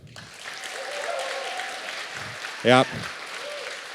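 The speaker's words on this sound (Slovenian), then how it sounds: "In zdaj aplavz za desno sliko od Jerneja." An audience applauds a drawing at the Zlatirepec 2023 award ceremony, a steady wash of clapping through most of the stretch, with a brief spoken word cutting in near the end.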